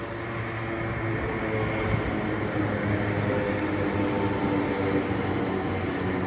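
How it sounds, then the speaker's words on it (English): A steady, loud rumbling drone of a train running, continuous and even throughout with no talking. "It's one of those trains."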